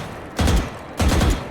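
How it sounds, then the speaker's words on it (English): Two quick bursts of gunfire from tap firing a gun in the video game Valorant, evenly spaced about half a second apart, loud and close with no talking. "Just tap firing like that, you're more likely to hit your shots"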